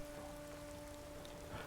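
Steady rain falling in a Skyrim Dragonborn game scene, a soft continuous patter that stays even throughout with a slightly fuller wash near the end.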